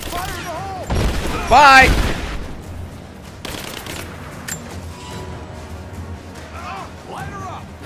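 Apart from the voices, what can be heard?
suppressing gunfire in the video game Rise of the Tomb Raider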